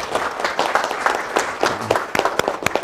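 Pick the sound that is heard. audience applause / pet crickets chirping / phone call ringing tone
audience applause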